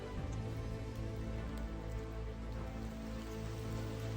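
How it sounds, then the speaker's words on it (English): Steady rain falls on a rocky hiking trail near Mahoosuc Notch on the Appalachian Trail in Maine, a soft, even patter that holds at a low level throughout with no talking. "It's raining."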